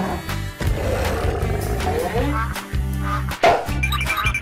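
A Godzilla roar sound effect: a loud, rough, sustained monster roar that rises and breaks off in pulses over a few seconds.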